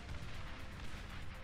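Dense, continuous rumbling blasts and crackling booms fill a battle in the strategy game Beyond All Reason, loud and sustained with no clear gaps between hits.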